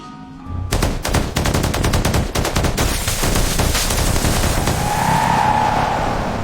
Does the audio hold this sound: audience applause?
no